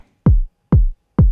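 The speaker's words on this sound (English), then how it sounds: "And they consist out of this kick," A kick drum sample in a stutter house beat: three deep, punchy thumps with a short pitch-dropping decay, evenly spaced, loud and alone.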